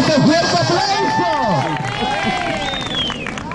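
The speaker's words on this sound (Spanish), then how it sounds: "¡Regálame este fuerte aplauso!" Street-show audience in Madrid's Plaza Mayor clapping and cheering after an acrobatic dance act, a loud burst of applause and crowd noise mixed with overlapping voices and a whistle-like shout.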